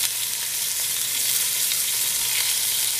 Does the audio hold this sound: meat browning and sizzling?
yes